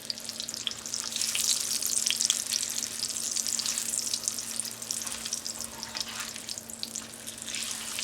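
Tortillas frying soft for tacos, a dense, close crackling sizzle of hot oil that holds steady throughout beneath a faint constant electrical hum, with no voices.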